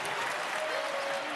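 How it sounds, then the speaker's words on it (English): A basketball arena crowd applauds a South Florida player's effort, a dense continuous wash of clapping, distant and fairly faint, holding steady for the whole moment. "Crowd rising to their feet, appreciating the effort by South Florida's Pena"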